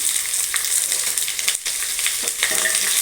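Onion and garlic sautéing in hot oil with curry leaves for a vatha kuzhambu, a steady close sizzle with occasional stirring scrapes and no talking.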